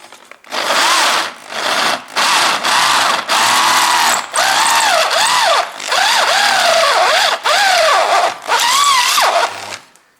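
Makita 18V cordless drill turning a 12 mm bit, whining in repeated short bursts with brief pauses between them and pitch sweeping up and down as the bit bites, loud and close.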